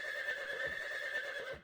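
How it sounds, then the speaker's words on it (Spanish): A horse neighs in a faint, sustained, slightly wavering whinny with a soft background, ending abruptly. "Escuchemos cómo hace el caballo."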